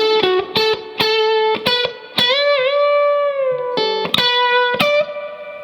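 Electric guitar playing a lick from a song's second solo, with a distorted lead tone: several short picked notes, then a long sustained bent note with vibrato, then more quick notes, loud and alone.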